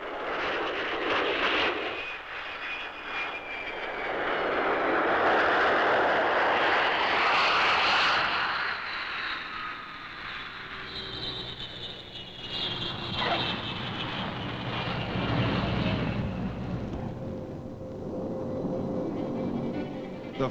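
Military jet aircraft, including an American F-100 during a joint exercise, roar past overhead, a loud sweeping whine that builds and fades as each plane passes, followed by further distant engine drones.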